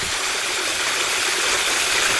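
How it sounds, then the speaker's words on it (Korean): A small waterfall on a mountain hiking trail makes a steady, close, broadband rush of falling water with no other sounds. "쬐그만한 폭포야."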